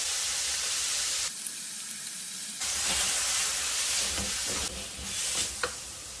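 Chicken and spices sizzle in a hot pan with ginger, a steady bright frying hiss that drops briefly when the food goes in, then swells again with stirring clicks.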